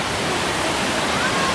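Roaring waterfall heard from a river safari boat on a Canadian river trip, a loud, dense, continuous rush of falling water filling the whole stretch with no pauses.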